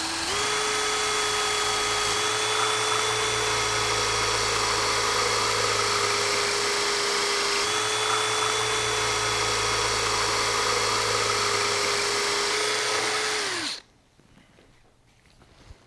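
Power drill boring into a guitar body, running backwards at first, gives a steady continuous whine for about fourteen seconds with a brief dip midway, then stops abruptly, leaving near silence.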